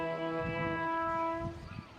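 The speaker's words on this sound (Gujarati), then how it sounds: "તમને સંભળાઈ રહ્યું છે હોર્ન" A long, loud Intercity train horn blares steadily for about a second and a half, then cuts off, leaving low rumbling rail noise.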